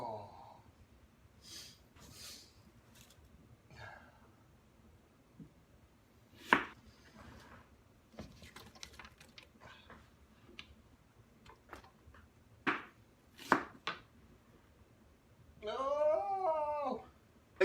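A knife chops an onion on a board in scattered sharp taps and knocks, interspersed with talking, a dog whimpering and other kitchen noises.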